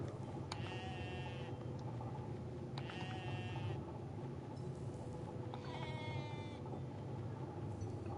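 Three drawn-out, wavering goat bleats from the video game Goat Simulator come at spaced intervals over a steady droning game ambience.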